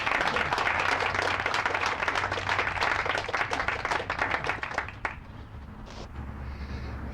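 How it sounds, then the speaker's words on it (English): Audience applause at a Fairfield, Iowa city meeting, a dense steady wash of many hands clapping that tapers off near the end into quiet room tone. "MUM deserves a hand of applause"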